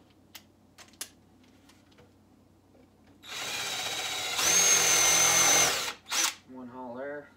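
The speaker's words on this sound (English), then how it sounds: "change out our drill bit" A power drill bores a hole while a mink box is being built, a few light clicks first, then a loud, steady whirring drill run of several seconds that rises in pitch before stopping, followed by a brief spoken remark.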